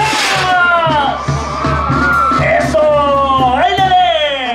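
A festival crowd at a bullring fiesta in San Miguel Nocutzepo, Michoacán, shouts and whoops loudly, with long rising and falling yells that run over steady band music.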